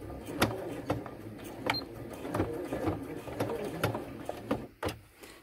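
A sewing machine stitches in short bursts with sharp mechanical clicks and whirring, close and moderately loud, with pauses between runs.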